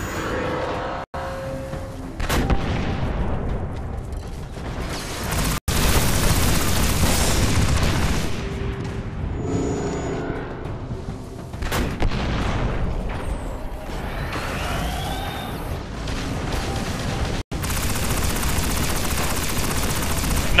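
Rapid gunfire and grenade explosions in the video game Destiny, sustained loud bursts of shooting with booming blasts, close and continuous with brief gaps.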